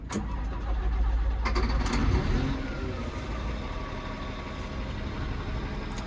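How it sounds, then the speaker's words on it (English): Scania dump truck diesel engine cranking and catching with a loud rumble, then settling into a steady, nearby idle for the remaining seconds, alone without talk. "We'll start the engine."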